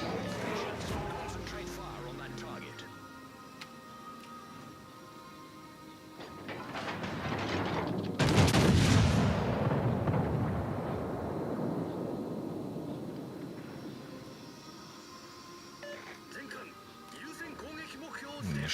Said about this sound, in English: Mishashi just ate loads of torpedoes.